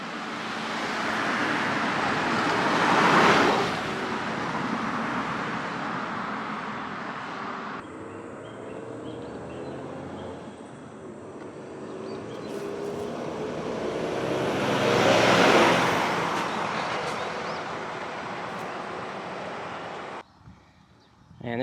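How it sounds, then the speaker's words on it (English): Heavy road traffic on Route 346 in Japan, with vehicles swelling loudly as they pass close by and fading away, then a second passing roar amid steady background traffic noise. "And there's tons of traffic on this road."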